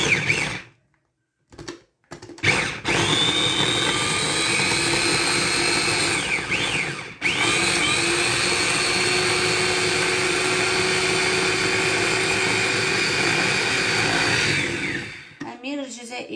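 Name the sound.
electric grinder chopping onion and garlic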